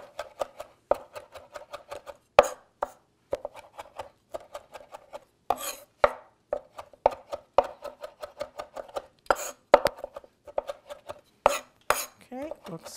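A kitchen knife minces a herb stem on a cutting board in steady, rapid chops that come close and fairly loud, broken by short pauses and a few scraping sounds.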